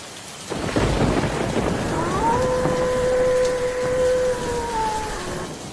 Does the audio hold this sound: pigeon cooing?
no